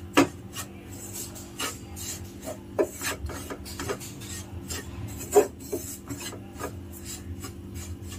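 Gram flour and sugar mixture stirred in a pan makes repeated dry scraping and rasping strokes, with occasional sharper knocks at an uneven rhythm, close and fairly quiet.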